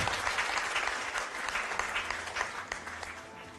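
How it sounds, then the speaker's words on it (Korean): An audience at a working-parents talk concert breaks into loud, sustained applause welcoming a panelist, dense clapping from a large crowd filling the room throughout. "한 분 한 분 소개 있을 때마다 큰 박수로 맞이해 주시면 감사하겠습니다"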